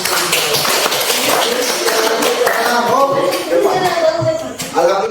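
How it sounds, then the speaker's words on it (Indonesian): Children clap together in a classroom during a physical education lesson on forward rolls, a steady patter of small hands running throughout, with young voices calling out over it. "Iya, tepuk tangan."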